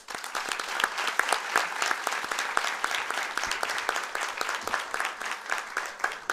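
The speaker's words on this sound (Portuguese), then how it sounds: "a quem peço uma salva de palmas." Audience applause at the official closing of the Brazilian Congress on the New Civil Procedure Code, a dense, steady wash of many hands clapping that fills the room without a break.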